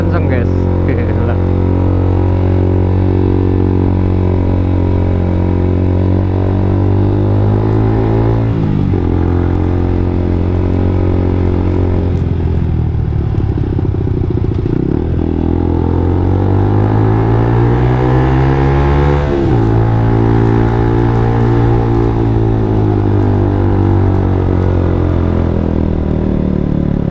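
A motorcycle modified to make its single-cylinder exhaust sound like a twin roars continuously while ridden carrying a passenger, its engine note rising and falling through repeated revving swells.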